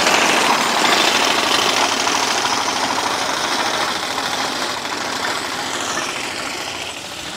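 A horse-drawn mowing machine cuts hay on a draft-horse farm, giving a steady, loud mechanical clatter of rapid chattering blades that runs throughout and eases slightly toward the end.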